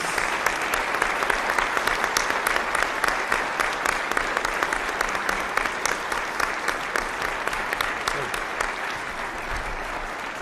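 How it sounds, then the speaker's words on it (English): Audience at a Milwaukee mayoral debate gives a sustained round of applause for both candidates, dense steady clapping filling the room for about ten seconds without a break. "So let's have a round of applause for both of our candidates."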